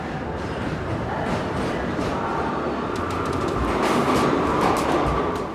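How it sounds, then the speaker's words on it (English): A subway train rumbles steadily with broadband rail noise, brief clicks and a slight swell toward the end, heard close and continuous with no talk. "Today I went into the subway."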